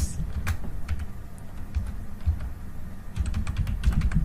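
Keys clatter on a computer keyboard in short bursts of quick, close taps separated by brief pauses, with a low room hum underneath.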